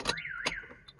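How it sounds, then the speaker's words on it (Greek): A 2016 Toyota Auris's aftermarket car alarm wails with a rising and falling electronic siren sweep, loud and close, in a brief burst. "Χτυπάει ο συναγερμός"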